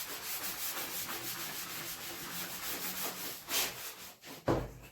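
Wax being rubbed onto a surface by hand, a soft, rhythmic swishing of cloth strokes, close and fairly quiet, ending with a couple of louder bumps.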